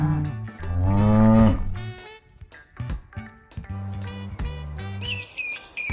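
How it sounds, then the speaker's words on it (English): A buffalo gives a long, deep moo followed by several shorter lowing calls, close and loud, with no speech. "B-U-F-F-A-L-O. Buffalo."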